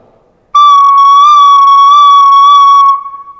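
A recorder played with poor breath control sounds one sustained, slightly wavering high note that starts abruptly, holds for over two seconds loud and alone, then cuts off with a faint trailing tail.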